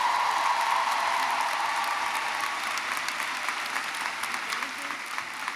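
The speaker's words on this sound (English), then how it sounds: "Give her a round of applause." Sustained applause from a graduation audience welcoming speaker Deja Dyer, a dense steady clapping crowd filling the hall, loud and continuous throughout with slight fading toward the end.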